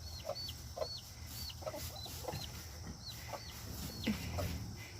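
A broody hen clucks softly in a backyard coop, with short repeated clucks and faint chick peeps over steady outdoor background noise and distant birdsong.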